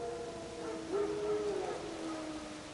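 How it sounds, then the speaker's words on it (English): Wild dogs in The Witcher 3 give a drawn-out howl with wavering pitch, distant and clear over a soft ambient wash. "No. Wild dogs."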